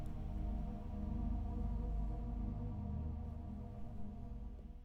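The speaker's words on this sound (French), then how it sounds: "C'est le son de la glace qui se brise" Ice breaking against a ship's hull, a deep, continuous low rumble and groan that rolls steadily for several seconds with slight swells in loudness.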